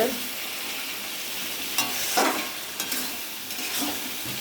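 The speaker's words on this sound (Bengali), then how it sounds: "এই যে মটনটা কষা হচ্ছে" Mutton braises in a pan, a steady close sizzle running throughout while a spatula scrapes and stirs a few times, with no talking.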